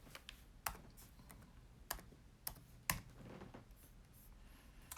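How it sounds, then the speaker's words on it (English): Someone types on a computer keyboard, tapping out quiet, uneven keystrokes with a few sharper clicks, faint and close in an otherwise still room. "I'm just typing it up in as we speak."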